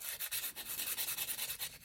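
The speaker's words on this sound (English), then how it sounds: "we're going to sand away the filler that I put in there" Wood filler being sanded off a DIY mannequin-hand jewelry holder: quick, even back-and-forth rasping strokes, about ten in under two seconds, close and alone.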